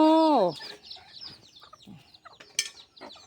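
A hen gives a loud clucking squawk up close, followed by softer scattered clucks and rustling nearby.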